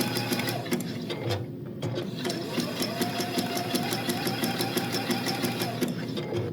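A sewing machine stitches apron fabric with a steady, continuous mechanical whir up close, pausing briefly near the start before running on evenly with the needle stopping at corners.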